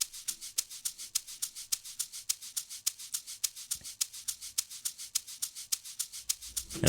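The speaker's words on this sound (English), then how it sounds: "We have our second shaker." A second shaker in a produced beat, rattling in quick, evenly spaced strokes with crisp airy hiss, heard alone and fairly soft with a steady repeating groove.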